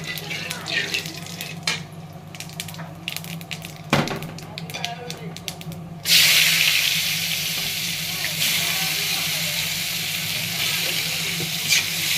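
An egg hits a hot pan and starts sizzling partway through, a loud steady frying hiss that follows a quieter stretch of kitchen sounds and a voice.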